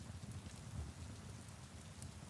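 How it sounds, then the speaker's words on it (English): Heavy storm rain with gusting wind, a steady dense low wash of drops and rumble running unbroken and fairly loud, with no voices. "You kind of blink back the rain and wind."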